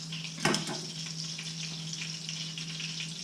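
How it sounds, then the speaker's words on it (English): Butter and olive oil sizzle steadily in a hot frying pan as fish is cooked, a continuous bright frying hiss with a brief louder crackle near the start, with no talk over it. "The butter and olive oil is getting good and hot"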